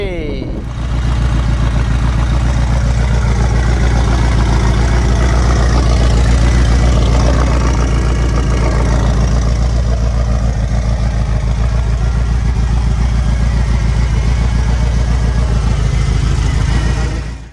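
A converted Ferrari 308 engine catches after a brief crank and settles into a loud, steady, rumbling idle that runs continuously, deep and close, with a voice speaking faintly underneath.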